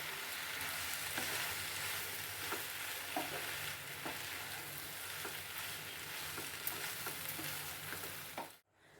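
Spicy street-style macaroni pasta with tomatoes and soy sauce fries and is stirred in a pan. A constant dense sizzle carries scattered soft scraping taps, then cuts off abruptly near the end; nobody speaks.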